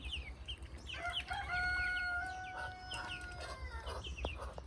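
Chickens cluck and a rooster crows partway through, with repeated calls layered over a low background hum; no talking.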